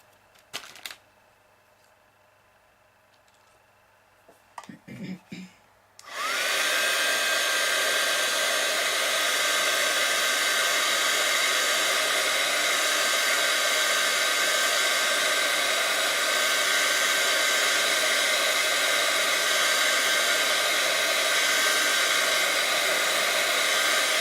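After a few seconds of quiet handling noises, a hair dryer switches on and blows steadily and loudly, drying watercolor teabag art for the rest of the stretch, with no talking.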